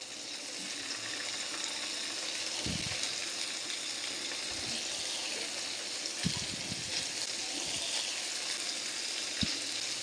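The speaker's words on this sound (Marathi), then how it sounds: "छान त्याला थोडासा गोल्डन कलर येपर्यंत आपल्याला फ्राय करून घ्यायचे पनीर" Paneer cubes frying in a pan until golden, giving a steady broad sizzle throughout, with a few low thumps and scrapes from stirring, close and fairly even.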